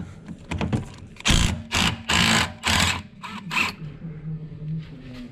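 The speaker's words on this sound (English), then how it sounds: "we're gonna spray some penetrating oil into the bolt and the whole U-joint" Penetrating oil is sprayed from a can onto the bolt of an Audi steering U-joint, giving three close, hissing bursts in quick succession amid light clicking handling noise.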